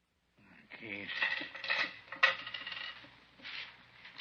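Keys, coins and other pocket contents set down on a table during a police questioning, a run of close metallic clinks and clatters with a sharp clunk midway, under quiet conversation.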